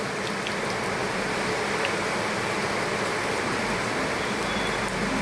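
Steady, dense hiss of heavy rain pouring without a break, loud and close, with no voices.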